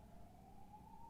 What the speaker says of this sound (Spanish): Creo que está pasando una ambulancia.